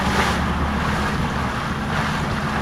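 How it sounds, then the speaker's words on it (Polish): Steady wind rushing over the sea off Sicily during a sailing trip, with a constant low rumble and washing hiss, no voices, loud and unbroken throughout. "Widać po morzu, pomarszczyło się, poczuł się wiatr."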